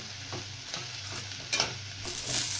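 A spoon stirring idli upma with peas in a pan, giving soft scraping strokes at an irregular pace over a faint, steady sizzle, close by with no voices.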